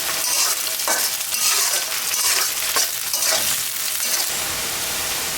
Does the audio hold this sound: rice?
yes